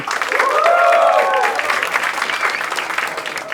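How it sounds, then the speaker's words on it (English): Studio audience applauds a comedy game show's head writer, a dense wash of clapping that swells quickly and holds steady, with shouts or whoops rising over it near the start. "Please give a huge round of applause for Rohan Desai."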